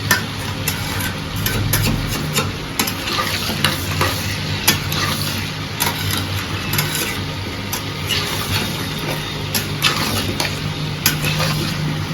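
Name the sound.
potatoes and pointed gourd frying and stirred in pan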